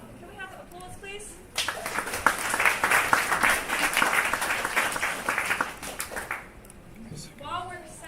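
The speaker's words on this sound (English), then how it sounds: "Can we have applause, please?" An audience claps for a presenting team at a tech impact event, a dense burst of applause lasting about five seconds between stretches of talk before and after.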